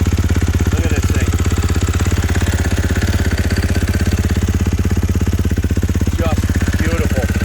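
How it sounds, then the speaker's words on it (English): A 2023 GasGas MC450 Factory Edition dirt bike with a titanium exhaust idles close by, a steady rapid low thumping pulse throughout, with brief faint voices over it. "Might as well fire it up so you can hear it. Titanium exhaust."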